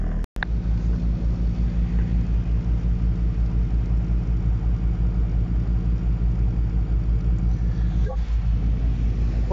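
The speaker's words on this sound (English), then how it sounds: "I've just opened her up briefly so that I didn't break the speed limit, but put some torque into the props" A Princess 38 motor boat's engine runs on the River Dart, a loud, steady low rumble with the props under load, continuous throughout with a brief dropout near the start.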